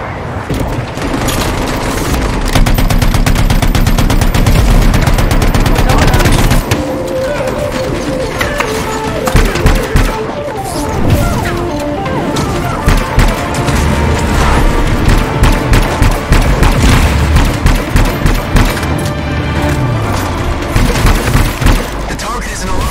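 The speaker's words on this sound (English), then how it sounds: "You're under heavy fire!" Heavy gunfire erupts in the police video game This is the Police, dense loud bursts and booms over a music-like backdrop, with voices calling out beneath the shooting.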